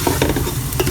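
Cashews and raisins fry in hot oil in a pan for a Malabar chicken dum biryani, giving a close, steady sizzle with bursts of stirring and scraping and no talk.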